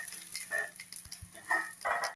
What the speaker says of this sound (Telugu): చూడండి ఇప్పుడు పోపు అవుతా ఉంది.